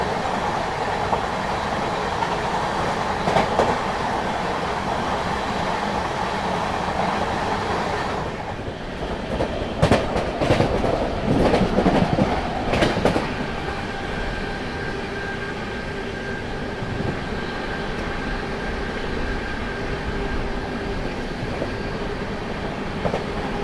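A passenger train runs through Tughlakabad station without stopping, with a steady rumble of wheels and clattering railcars. Louder rattling bursts come in midway before the hum settles again, and no voices are heard.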